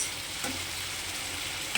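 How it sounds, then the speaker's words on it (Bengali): Chicken pieces fry in a pan with large chunks of onion, giving a quiet, even sizzle with a couple of soft stirring knocks. "একটু অন্যরকম করে চিকেন রান্না করছি"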